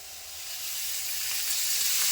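Green tomatoes frying in oil in a pan, a steady close hiss and sizzle that gradually grows a little louder, with no voices.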